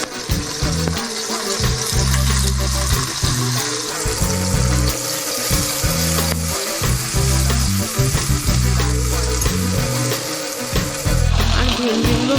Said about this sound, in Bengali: তেলটা গরম হয়ে গেলে আমি ভেন্ডিগুলো দিয়ে একটু ভেজে নিচ্ছি